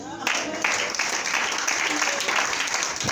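A church congregation claps and applauds steadily in a continuous, dense wash of clapping, with voices mixed in among the crowd.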